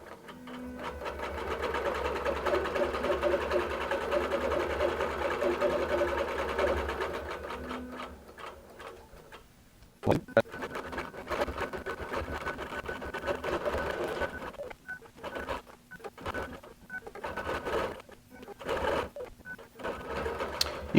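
A QBOT V3 quilting robot drives a sewing machine through appliqué stitching, a steady loud mechanical whir for about ten seconds, then a sharp knock and a choppier run of shorter stitching bursts with pauses between them.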